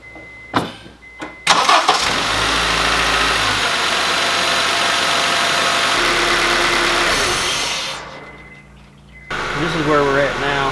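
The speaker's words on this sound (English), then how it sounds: "So I think we have everything to give it a start and see what happens." An Acura RSX engine, freshly repaired at the intake manifold, cranks briefly and catches, then settles into a loud steady idle. The engine note dips near the end before picking back up.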